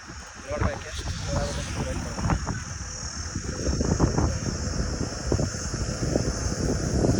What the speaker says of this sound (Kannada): ಅಷ್ಟೊಂದು ಸ್ಪೀಡಾಗಿ ಹೋಗೋಕ್ಕಾಗಲ್ಲ ಗಾಳಿ ಗೆಳೆಯುತ್ತೆ